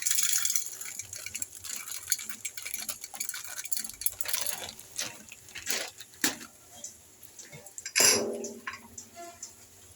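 Popcorn kernels and salt tipped into oil in a pressure cooker on a stove, giving scattered dry ticks and light rattling clicks with a louder clatter near the end, close and fairly quiet.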